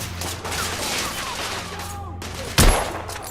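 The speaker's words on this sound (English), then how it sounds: "I'm under heavy fire!" Gunfire rattles through a Victorian-era firefight in the video game The Order 1886, sustained dense shooting under the noise of battle, ending in one loud, heavy blast near the close.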